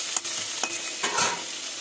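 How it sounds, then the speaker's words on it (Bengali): Potatoes and pointed gourd frying together in plenty of oil, a steady close sizzle with a few scraping stirs of the spatula, no talk. "যেহেতু আমার তেলের পরিমাণ বেশি আছে, দিয়ে আমি আলুও ভাজবো পটলও ভাজবো"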